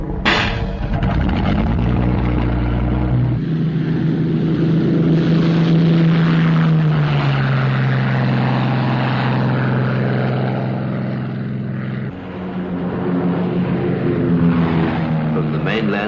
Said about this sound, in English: Lincoln bombers of the Royal Australian Air Force take off to reinforce the security patrol